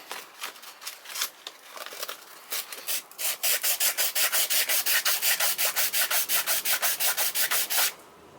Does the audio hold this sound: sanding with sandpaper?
yes